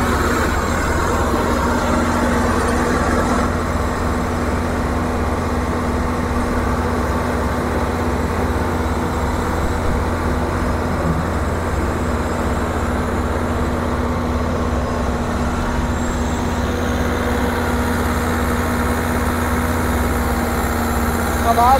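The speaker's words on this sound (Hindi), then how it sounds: "आवाज़ चेक करो ट्रैक्टर की आवाज़" A New Holland TD95 tractor engine drives a thresher, giving a steady, loud, continuous droning hum with a constant low tone throughout, close by and unbroken.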